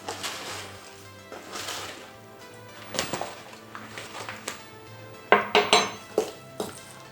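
Bananas and oats mashed together for vegan cookies, with repeated clinking and scraping of a utensil against a bowl, some sparse early taps and then a brisk cluster of sharp knocks near the end, all close and fairly loud.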